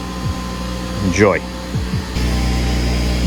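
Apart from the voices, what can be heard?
air compressor running in the background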